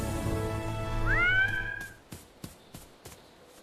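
A cartoon cat character, Super Meow, lets out a drawn-out meow that rises and bends in pitch, followed by several short, sharp clicks or taps spaced a beat apart, with no talk.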